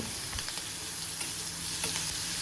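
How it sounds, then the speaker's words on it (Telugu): Green chilli pieces, cumin seeds and spices fry in hot oil with a dense, constant sizzle and scattered small crackles, close and even, with nobody speaking. "అలాగే 1 టీ స్పూన్ జీలకర్రను కూడా వేసుకుని మరో 1 నిమిషం పాటు వేపించుకోవాలి"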